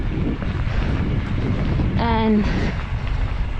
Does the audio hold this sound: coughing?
no